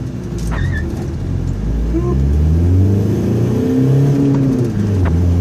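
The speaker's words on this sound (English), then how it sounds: "That was a bad launch." The Frankendiesel, a diesel-swapped minivan, launches and accelerates hard, a loud close engine roar with rising pitch through the gears and turbo whistle over the drone.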